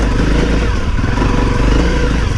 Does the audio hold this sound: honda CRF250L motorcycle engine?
yes